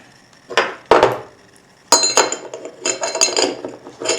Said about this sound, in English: So I'm going to put these back together.